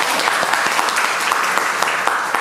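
Dense audience applause fills a hall in a short, even burst of clapping, loud and close with no talk over it.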